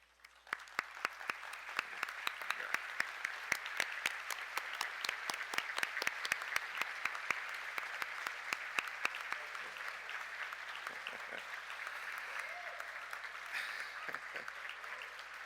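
A large plenary audience at an internet governance forum opening ceremony applauds young students from Brazil and Latin America; sharp individual claps build into sustained, dense applause that gradually thins and softens toward the end.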